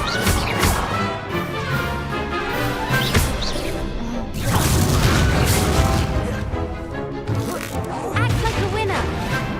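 Incendio fire spells crackle and roar in Hogwarts Legacy during a dueling tournament, with repeated loud whooshing bursts and crashes layered over busy game audio and voices.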